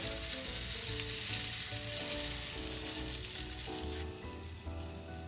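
Blueberry pancakes frying in a pan, a steady close crackling sizzle that fills the whole stretch, with soft music underneath and no talking.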